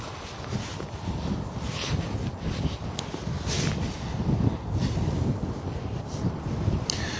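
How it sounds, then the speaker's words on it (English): Gusty crosswind at Bristol Airport buffets the camera microphone, producing a continuous low, rumbling roar with irregular swells and occasional sharper gust thumps. "it's just the wind reverberating"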